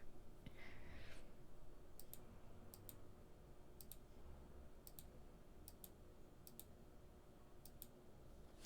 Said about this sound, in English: My mouse clicks are so loud.